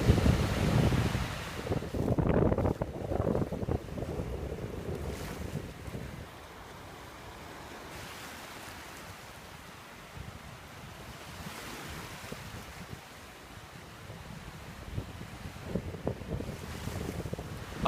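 Surf washes onto the beach at Margate, Kent, in rolling swells under gusty wind buffeting the microphone, loudest at the start and then easing into a quieter wash.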